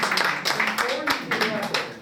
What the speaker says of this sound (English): Okay, big clap.